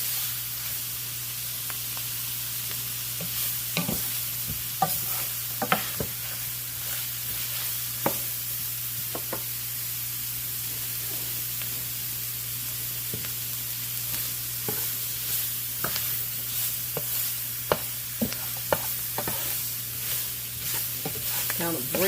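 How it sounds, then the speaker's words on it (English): Onions and mushrooms sauté in a pan, a steady soft sizzle running underneath as a utensil stirs and scrapes them now and then with light clicks. The sound is close and fairly quiet, with no talking. "Lots of onions and mushrooms. Gonna mix that up a little bit. Let them saute a little bit in this."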